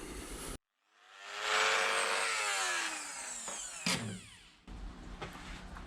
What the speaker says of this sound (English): So ended up using the Dremel with the small cut-off wheels,